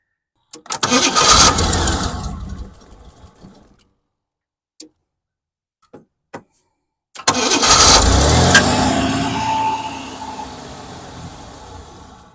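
A 1987 Ford Bronco II with a blown head gasket cranks and fires briefly, falls silent apart from a few clicks, then starts again and runs roughly before its sound gradually fades.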